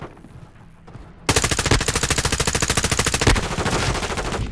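Rapid automatic gunfire in Call of Duty: Modern Warfare II multiplayer, a loud, steady stream of evenly spaced shots that starts abruptly after a quieter moment and keeps firing close up with no talk over it.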